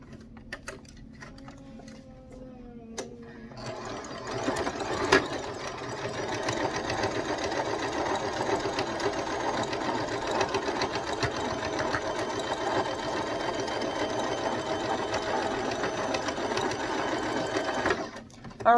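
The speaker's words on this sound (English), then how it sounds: "I'm going to go ahead and sew this," Sewing machine stitching a fabric face mask, a steady close whirring run that starts a few seconds in and continues for about fifteen seconds before stopping.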